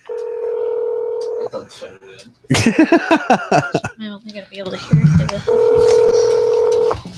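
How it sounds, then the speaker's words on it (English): Touch-tone keypad tones ring out as a house phone is dialed, steady flat beeps at the start and end with a clatter of handling and talking between them, close and fairly loud. "I'm going to call the house phone."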